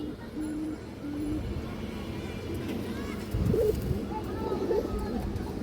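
Pigeons coo in a loft, low hooting calls rising now and then while someone talks over them.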